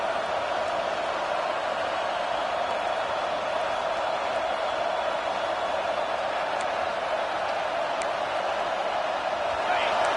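A football stadium crowd roars without letup behind the defense during a red zone stand, a dense, steady wash of massed voices at full volume that fills the whole stretch without pauses.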